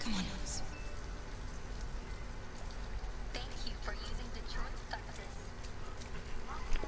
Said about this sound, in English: now I'm just running around in the rain